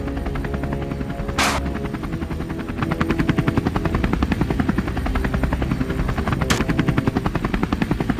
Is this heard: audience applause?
no